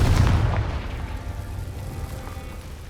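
A Confringo fire spell from Hogwarts Legacy bursts in a deep, booming explosion that hits hard at once and then rumbles away into a fading tail, with no voices.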